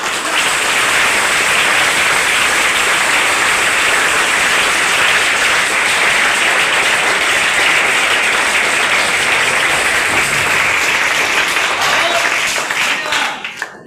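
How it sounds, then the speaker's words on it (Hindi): Dense, loud applause from an audience at a motivational class fills the air as a steady wash of clapping, continuing without a break for over ten seconds before it cuts off abruptly. "तो एक बार जोरदार ताली होना चाहिए"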